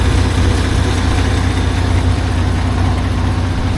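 A 1989 Dodge W100 truck engine idles steadily and loudly up close, a continuous low rumble with a faint mechanical whir above it and no one talking.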